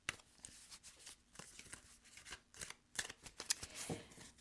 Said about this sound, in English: Y'all can fast forward if you want through the shuffling.